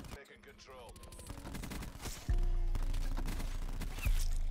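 Operator mod gun in Black Ops 4 on the Nuketown map fires in a steady rapid automatic stream. Game music and effects play underneath, and a louder low boom hits midway.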